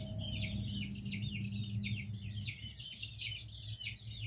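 Chicks chirp in a dense, rapid stream of high peeps while a hen settles on the roost, with faint low clucks and hum underneath, close and continuous with no talking.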